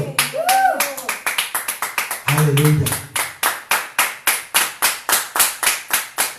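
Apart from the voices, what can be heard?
church congregation clapping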